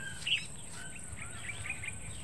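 Birds calling near a river in the countryside, a few faint high chirps and short tweets scattered over a quiet outdoor background.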